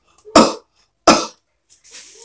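A person coughs sharply twice, close and loud with a short pause between, followed by a fainter breathy sound, as part of a breathing and healing practice for anxiety.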